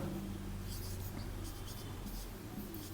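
Pen or pencil writing a sentence on paper, a soft continuous scratching with brief strokes, quiet and close, with faint voice-like noise in the background.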